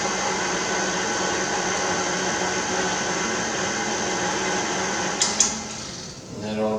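A stand mixer with its whisk attachment blends dry ingredients for fry bread, a steady electric motor whine holding throughout before a few clunks and a slowdown at the end.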